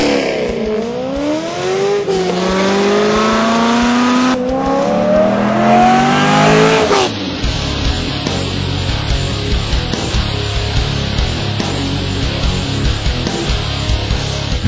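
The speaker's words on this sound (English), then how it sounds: "the C5 Corvette was equipped with the loudest system that Corsa offers" A C5 Corvette fitted with Corsa's loudest performance exhaust revs hard through several rising and falling sweeps, then roars loudly in a sustained broadband blast, close and alone.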